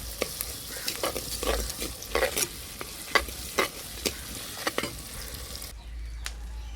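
Onions sauté in a clay pot while a kavalai fish curry is being made, giving a steady close sizzle broken by repeated scraping and tapping strokes from stirring.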